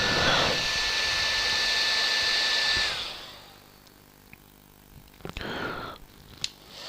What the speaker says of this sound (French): L'avantage du sèche-cheveux, c'est que du coup l'air chaud va vous faire sécher votre microsol